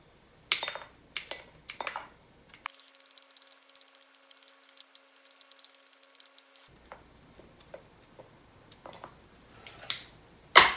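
Scissors snip pieces of black licorice Twizzlers into a bowl, giving sharp, irregular close-up clicks with a steady faint hum through the middle stretch.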